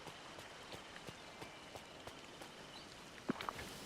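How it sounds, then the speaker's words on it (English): Rain in the Disney Dreamlight Valley game patters softly and steadily, with faint rhythmic footstep-like taps and a couple of brief louder clicks near the end. "It's just raining."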